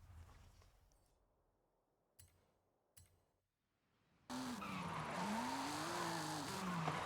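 Car drifting with tyres skidding in the racing game Forza Horizon 5: after a few quiet seconds with two short clicks, a loud sustained tyre squeal with a wavering engine whine bursts in and holds steadily to the end.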